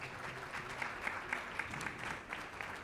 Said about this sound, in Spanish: quería pedir unos aplausos para el profesor Bosco.